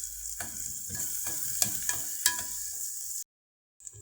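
Onion frying in a pan for fava beans with tomatoes, a continuous close sizzle with repeated stirring scrapes that breaks off into silence near the end before resuming briefly, no talk.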